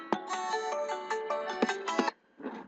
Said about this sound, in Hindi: जैसे मैं रिंग किया तो देखिए यहाँ पर एक आपको आवाज़ सुनाई दे रही है